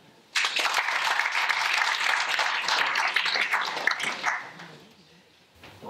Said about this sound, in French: J'ai bon, on l'applaudit.